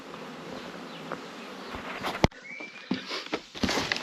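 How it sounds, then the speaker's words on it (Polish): Honeybees buzzing around their hives in early spring, a continuous near drone of many insects with a few louder passes close by, plus some light tapping and rustling. "Pszczoły super pracują."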